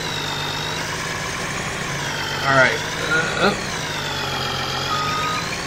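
A loud diesel pickup truck with modified exhaust idles in Farming Simulator 19, a steady rumble with a brief revving swell in the middle, while someone talks over it.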